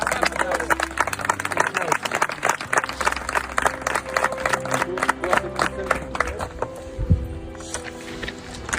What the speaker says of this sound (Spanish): A usted aplauso, chicos.